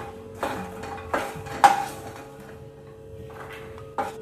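Roasted makhana (fox nuts) being scooped out of a kadhai. A few sharp metallic clinks and scrapes of a spoon against the pan are spaced out, close but fairly quiet, with near silence between them.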